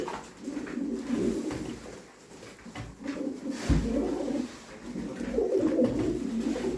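Pigeons coo repeatedly in a loft among birds offered at a live pigeon auction, soft throaty calls rising and falling in overlapping phrases, close by and moderately loud.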